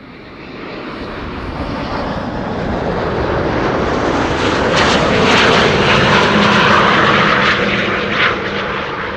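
An airplane arriving at Amsterdam Schiphol Airport on a sunny day, its engine roar loud and close, swelling to a peak midway as it passes and then holding strong.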